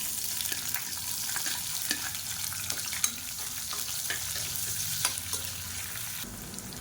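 Steady, close sizzling of finely chopped small onions frying in hot oil, with occasional soft clicks of stirring over the continuous crackle.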